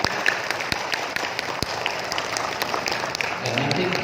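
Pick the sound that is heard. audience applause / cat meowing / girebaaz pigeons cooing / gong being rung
audience applause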